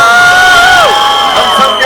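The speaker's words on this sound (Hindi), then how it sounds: "अखिलेंद्र मिश्रा साहब के लिए एक बार जोरदार तालियां हो जाए" A loud crowd at a movie trailer launch event cheers and whoops, with long whistles gliding over a roaring mass of voices and clapping, close and continuous.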